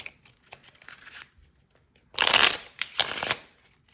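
Tarot cards being shuffled by hand: soft riffling at first, then a louder, close burst of shuffling followed by a second flurry, with quiet gaps between.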